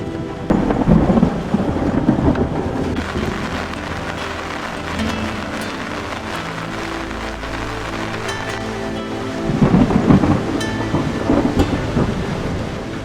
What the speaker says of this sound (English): Preparing for another round of rain.